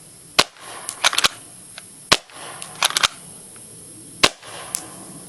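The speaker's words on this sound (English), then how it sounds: "you can see I'll shoot a couple of shots more" A JT ER-2 airsoft gun converted to constant air fires a series of sharp, close pops, some single and some in quick bursts of two or three, with quiet pauses between them outdoors.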